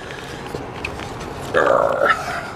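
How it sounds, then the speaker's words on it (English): A loud, brief burp rumbles out close to the microphone, a single voiced belch lasting about half a second, heard at an abandoned house by a river. "I know that probably sounded like a nuclear version of a burp"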